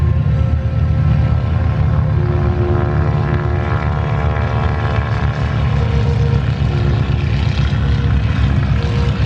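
Propeller aircraft engines roar steadily at close range, a loud droning hum with throbbing low tones that holds throughout.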